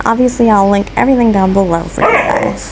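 A dog barks and yelps in a few harmonic, drawn-out bursts close by indoors during an at-home pedicure session, mixed with a person talking.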